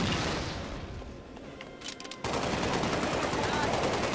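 Rapid gunfire in the video game Halo: Spartan Assault, bursts of automatic shots before a brief lull, then a dense, sustained volley that continues to the end.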